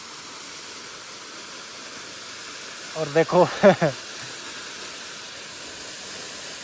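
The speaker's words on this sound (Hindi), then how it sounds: "वाटरफॉल और स्ट्रीम्स बहुत कमाल की है इस रूट पे" Water from a waterfall right beside a mountain road to Mechuka, Arunachal Pradesh, rushes in a steady, broad hiss, with someone speaking briefly midway.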